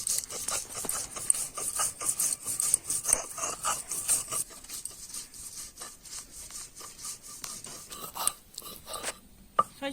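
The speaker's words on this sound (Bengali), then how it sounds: "সরষে বাটায় 4টে কাঁচা লঙ্কা দিয়ে দেবো, বেটে লি সরষেটা।" Mustard seeds ground with four green chillies on a flat grinding stone make a rough, rhythmic rasping and rubbing, stroke after stroke, fairly close and steady.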